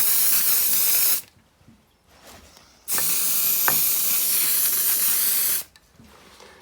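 Aerosol spray can misting stain blocker onto a water-damaged ceiling, heard as two long, steady, loud hissing bursts of several seconds each, separated by a short pause with faint rustling.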